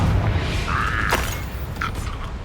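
Bombarda and Confringo spells from Hogwarts Legacy go off in quick succession, a whooshing cast followed by a sharp burst and a fainter second blast over a rumbling game background.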